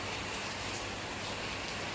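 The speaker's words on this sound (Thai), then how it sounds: "ฝนตก" Rain falling steadily outdoors at a house with planted trees, a dense and even hiss with no pauses, moderately loud and surrounding, with no voices.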